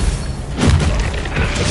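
A Confringo fire spell blasting in Hogwarts Legacy, a loud, booming burst with a deep rumble that swells after a brief lead-in and sustains to the end.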